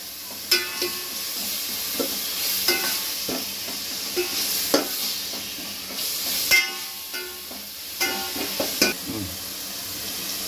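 Garlic and ginger frying in oil for a Chettinad crab curry, steady soft sizzle punctuated by repeated scraping stir strokes of a spoon in the pan, close and moderately quiet.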